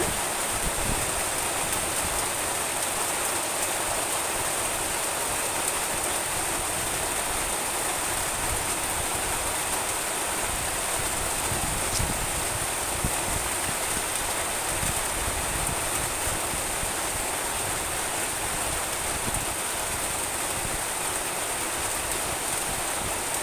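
Rain pours steadily over open farm fields in rural countryside, a dense, even hiss holding at the same level from start to finish, with no voices.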